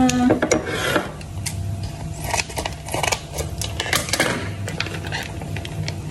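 Crinkly plastic rustling and tearing of a Filipino food sachet, close and fairly loud, with scattered sharp crackles and rubbing through the whole stretch, no talking.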